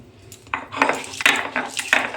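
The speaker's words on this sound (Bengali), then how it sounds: "আমি 2টো আদার টুকরা, বেশ কয়েক কোয়া রসুন, 2টো শুকনো লঙ্কা, 3টি কাঁচা লঙ্কা একসাথে বেটে নিচ্ছি।" Ginger, garlic, and dried and green chillies are crushed on a flat grinding stone, producing a series of sharp scraping and knocking strokes in an irregular rhythm, close and fairly clear.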